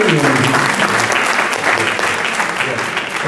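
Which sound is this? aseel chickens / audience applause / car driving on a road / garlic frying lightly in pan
audience applause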